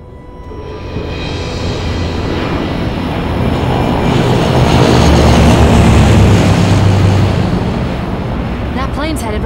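A propeller plane flies overhead in the zombie game Left 4 Dead, its broad droning roar swelling louder toward the middle and easing off toward the end.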